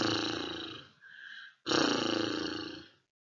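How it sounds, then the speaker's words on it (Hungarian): A horse snorting in a Hungarian children's farm-animal lesson, heard as two loud, rough, breathy bursts close up, split by a short gap, with no talking. "És prüszkölt."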